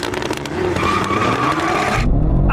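A 1600-horsepower Nissan GT-R launches hard in a drag race, a loud close burst of engine roar and tire squeal that cuts off abruptly into a low rumble.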